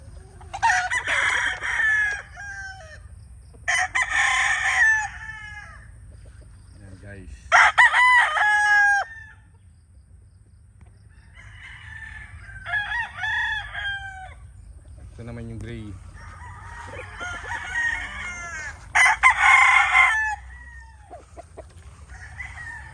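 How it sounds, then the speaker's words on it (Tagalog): Red brood stag roosters crow loud and close, several crows in a row with short clucks between them and pauses of quiet, while a steady low farmyard hum runs underneath. "nandito yung ating napili na mga brood stag ito yung red"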